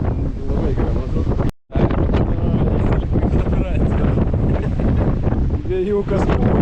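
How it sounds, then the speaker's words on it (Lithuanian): Strong wind gusts buffet the microphone on a mountain trail near Zakopane, a loud, rumbling roar with a brief dropout, while people talk under it. "Vėjukas pučia."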